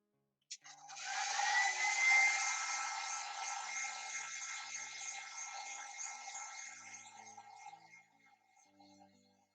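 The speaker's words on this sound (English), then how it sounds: "so I'm going to dry it with a hairdryer" A hairdryer switches on with a click and blows in a steady, airy whir for several seconds while drying paint on a cell phone stand, gradually fading lower toward the end.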